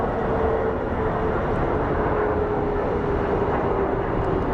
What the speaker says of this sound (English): Looks like an American Airlines A319 with services to Tucson, Arizona.